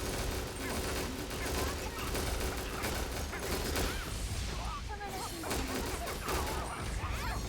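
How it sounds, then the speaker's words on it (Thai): Edith unleashing a continuous beam attack from the sky in a mobile game, a dense, loud barrage of crashing, gunfire-like impacts and mechanical bursts running nonstop, with someone talking over it. "ยิงบีมครับจากบนฟ้าโอ้โหดู แรงมากครับต่อเนื่องเลยนะความแรงนะครับ"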